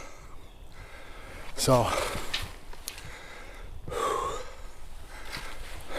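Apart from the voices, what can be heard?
heavy breathing, catching breath after exertion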